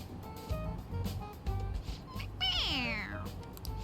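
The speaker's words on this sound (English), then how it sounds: "It meows when you press on its head." A stuffed toy cat in Persona 5 Royal gives a clear, rising-then-falling electronic meow when pressed, heard once over game music and background voices.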